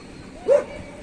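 One quick, mid-pitched bark from a dog among a group of Kangal, Pitbull and Belgian Shepherd dogs, a lone short burst near the middle over faint background rumble.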